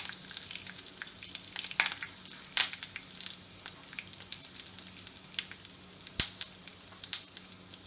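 Cumin, mustard seeds, red chillies, curry leaves and asafoetida frying in hot oil for a tempering, a close crackling sizzle with sharp pops and spatters scattered irregularly throughout.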